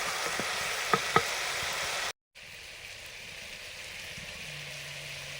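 Fish coated in ginger-garlic paste fries in hot oil, a dense crackling hiss with two sharp pops in the first seconds, then a brief cut and a quieter, steadier simmer afterward.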